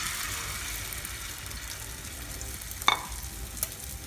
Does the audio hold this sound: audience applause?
no